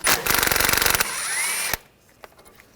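Power tool spinning out a bolt with a 13mm socket on a 2013-2022 Buick Encore rear suspension: loud, rapidly pulsing buzz for about a second, a steadier whir that cuts off abruptly, then quiet with faint handling noises.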